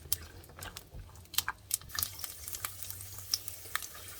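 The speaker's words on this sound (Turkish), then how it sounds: "Zeytinyağım kızmaya başladı. Bademlerimi ekliyorum hemen. Bademi kavuracağım." Almonds sizzle and crackle in hot olive oil with scattered pops and scraping stirs, a busy close-up frying sound throughout.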